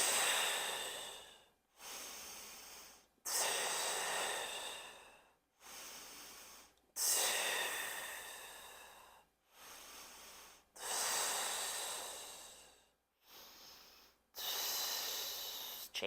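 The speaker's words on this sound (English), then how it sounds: "Inhale half of the circle, exhale the other half" Long, audible breaths alternate in and out during a mat Pilates exercise, each inhale and exhale lasting a second or two with brief pauses between, close and fairly loud with no talking.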